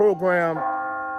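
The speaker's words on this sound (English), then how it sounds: "this doggone church bell just keep going" A church bell rings with a sustained, humming tone that dips and then settles into a steady ringing, fairly loud and close, with no talking over it.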